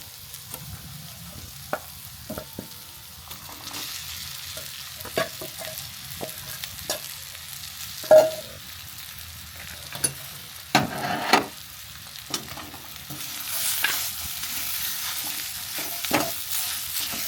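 Mashed potato tipped into a pan of spiced samosa filling and stirred, a soft sizzle broken by sparse scrapes and taps of the spoon, fairly quiet and near, a few louder knocks midway, no voices.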